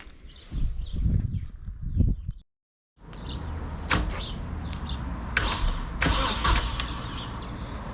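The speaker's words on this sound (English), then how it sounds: "we'll try to crank it and see if we got spark and everything" A Mercedes-Benz W201 with a swapped-in 230 Kompressor engine cranks over loudly up close. Rough bursts are broken by a brief moment of silence, then longer churning with a few sharp clunks.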